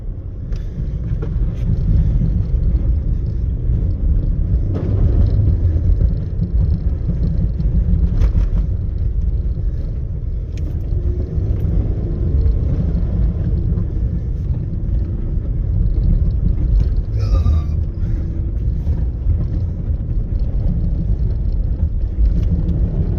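A car engine revs under light throttle while the vehicle sits stuck and high-centered at an off-road event. A loud, steady, close rumble runs throughout, with gusty wind noise over it.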